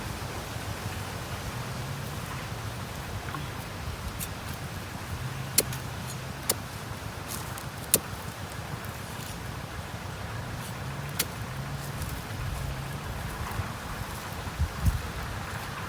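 Steady broadband wind rush from a dry, stormy gale outdoors, constant and fairly loud with no talking, with a few faint clicks and taps poking through now and then.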